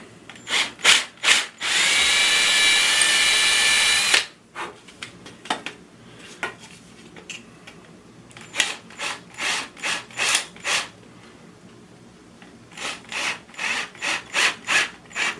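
A power drill drives drywall screws into a wall to mount an old mirror, in short whirring bursts and ratcheting pulses with one sustained grinding run, close and loud.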